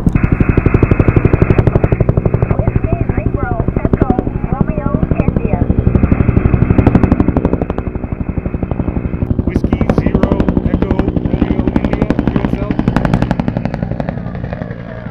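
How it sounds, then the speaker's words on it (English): Helicopter passing low overhead a ham radio operator on a summit, loud rapid rotor chopping that pulses for the whole stretch, heavy and close, with speech mixed in. "a helicopter just flew right over me"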